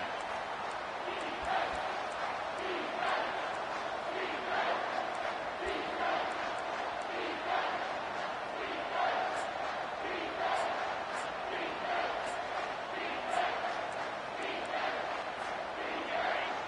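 A football stadium crowd roars steadily and evenly throughout, a dense wash of cheering from a distance. A commentator's voice runs over it the whole time.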